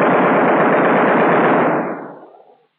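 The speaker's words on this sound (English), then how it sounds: "As soon as he gets in range, fire a 2-second burst." A B-17 bomber waist machine gun fires one loud, sustained two-second burst of rapid shots that then fades out, heard alone with no talk.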